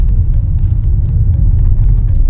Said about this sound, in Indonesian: Cuma yang kalian dengar itu adalah sound dari si bannya.